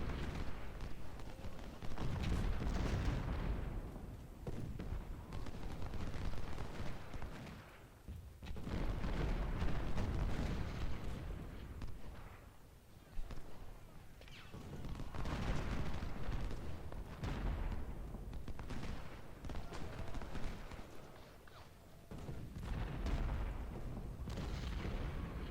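Battle noise from the Civil War strategy game Ultimate General: Civil War, fought in dense forest: steady, overlapping rumble of artillery booms and rolling musket volleys, loud and continuous, swelling and dipping throughout.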